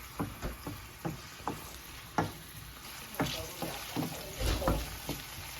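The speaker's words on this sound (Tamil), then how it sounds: "பொரியட்டும்." Fried rice fries in a pan with a soft, continuous sizzle broken by repeated stirring scrapes and taps, fairly quiet and without talk.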